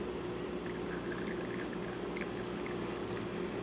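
A La Pavoni lever espresso machine, lever pushed quickly, forces water through the coffee with a faint, steady hissing gurgle and trickling pour, low and continuous with no voices.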